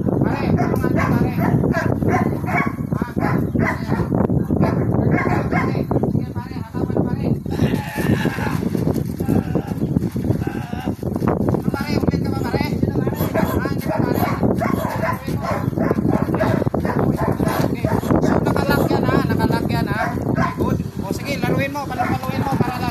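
A dog barks repeatedly in sharp bursts amid scuffling during bite training against a decoy, while people talk and shout commands throughout.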